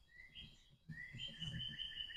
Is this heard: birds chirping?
yes